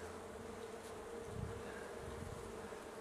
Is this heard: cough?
no